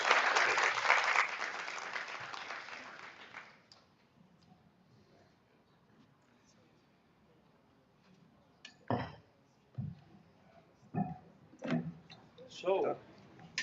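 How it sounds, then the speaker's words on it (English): An audience at a conference session on information integrity gives a burst of applause that fades out after a few seconds, followed by near silence and then people talking. "Kira, thank you so much for a huge round of applause."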